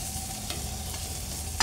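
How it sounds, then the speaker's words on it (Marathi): Grated potato is worked into a coriander stuffing mixture for aloo paratha, giving a steady, close rustling scrape of stirring with a soft knock at the very end. "आता यामध्ये किसलेला बटाटा टाकून घ्यायचा"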